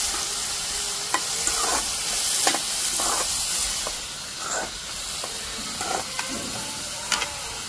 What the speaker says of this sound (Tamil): வெங்காயம் நல்லா வந்து வதங்கிட்டு இருக்கு